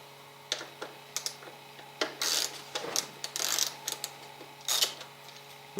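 Tools work on the battery bracket bolts of a Suzuki DR650, giving scattered close metallic clicks, clinks and short ratcheting bursts with quiet gaps and no talk.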